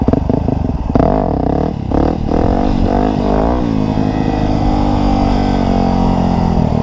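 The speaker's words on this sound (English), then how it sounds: "I'm literally just pulling in the clutch, revving it up, dumping it, and letting it drop back." A Yamaha WR250R dirt bike engine revs hard and loud up close, surging and dropping in pitch, then settles into a steady rumbling idle.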